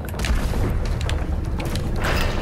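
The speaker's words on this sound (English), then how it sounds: "It sounds like we're just in the middle of a battlefield with all the random explosions" Random explosions in the first-person shooter game Doom Eternal, a dense, continuous roar of booms and mechanical clatter that stays loud throughout, with no voice over it.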